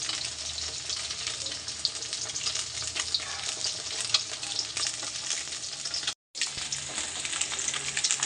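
Fish fries in hot oil in a pan, giving a dense, steady crackling sizzle close by with scattered pops, broken only by a brief moment of silence.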